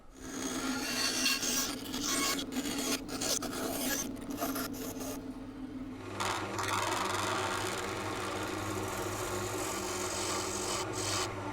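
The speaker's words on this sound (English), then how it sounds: "now I'll go ahead and cut that out and lathe it down" Wood for a DIY yarn winder being cut out and worked down on a lathe, a loud, continuous rasping and grinding close by, with a brief shift in tone partway through before the steady cutting resumes.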